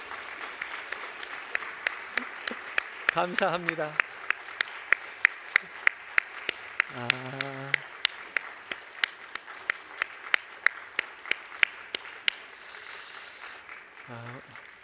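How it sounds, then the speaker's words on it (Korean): Steady applause from a church congregation after a choir's cantata fills the whole stretch, while a voice speaks briefly a few times over it. "들어가실 때까지 박수 치라 그랬더니"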